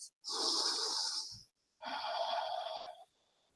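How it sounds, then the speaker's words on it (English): Two long, close breaths during a yoga flow, a breathy inhale followed by a slow exhale, each airy and forceful with a short quiet gap between them. "And breathe."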